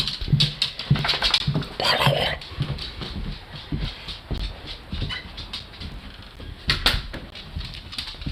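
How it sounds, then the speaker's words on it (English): A dog making brief whimpering and snuffling sounds, close by and fairly loud, with scattered clicks and rustles through the stretch and no talk. "Of course, it's a damn dog."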